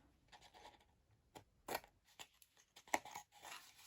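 Scissors snip through a folded cardboard box along its score lines, a few quiet, close crunching cuts spaced irregularly among soft scratching and rustling.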